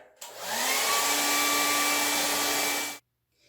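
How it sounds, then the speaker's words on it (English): A blow dryer runs over hair covered by a cap during an at-home keratin treatment, a steady loud whooshing motor roar with a faint whine that starts abruptly and then cuts off, with no talking. "30 minutes are done and I'm ready to blow dry."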